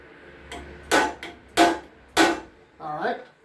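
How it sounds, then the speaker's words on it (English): A heavier hammer strikes a part on a 2008 Pontiac G6, giving three loud, sharp metallic blows at roughly even intervals after a lighter tap, followed by a brief voice. "All right, heavier hammer."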